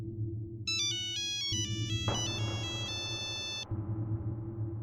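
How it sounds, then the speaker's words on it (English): An electronic telephone ringtone plays a quick melodic pattern of bright synthetic tones, loud and close over a low humming drone, with no voices. "Then the phone rang again."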